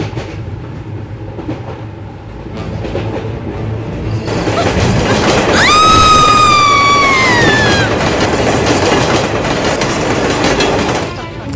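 A train rumbles steadily along the rails, with a long high metallic squeal of wheels rising partway through over the continuous roar.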